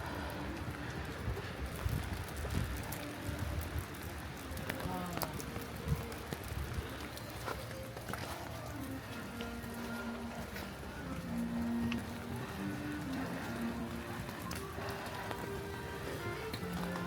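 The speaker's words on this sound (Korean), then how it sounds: "비가 와갖고." Steady rain falls in a temperate rainforest in Vancouver, with a continuous wash of drops and a few low lowing-like sounds and faint murmurs in the background.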